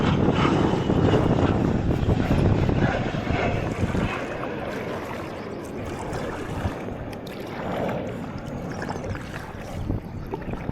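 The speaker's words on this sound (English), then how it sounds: "Plane taking off." An airplane takes off over the Missouri River between Parkville and Kansas City, its broad engine roar loud and steady at first and then gradually fading, with faint water and paddling noise beneath.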